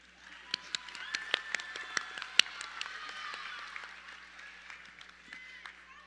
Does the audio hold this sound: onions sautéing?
no